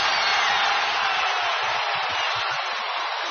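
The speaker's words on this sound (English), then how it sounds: "Kawhi Leonard has sent this crowd into a frenzy" Basketball arena crowd at an NBA Finals game in San Antonio roaring in a frenzy, a dense, far-off wash of cheering that holds steady throughout.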